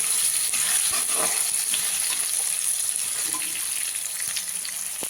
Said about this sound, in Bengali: আলুগুলোকে ভালো করে লাল লাল করে ভেজে নেবে